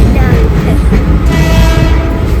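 A train runs steadily and loudly close by with a continuous rumbling roar and faint metallic tones, heard during a Ganesh Chaturthi trip to Kondwadi, Kunkavan in the Konkan.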